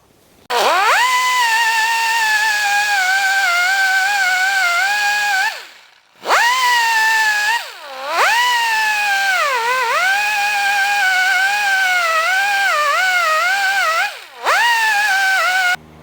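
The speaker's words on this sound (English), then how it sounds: "So I'm gonna go ahead and just kind of sand around this thing" A sanding tool works around a car exhaust pipe to prepare a spot for an O2 sensor during an EFI install, giving a loud, close, whining drone that dips in pitch and cuts out briefly three times.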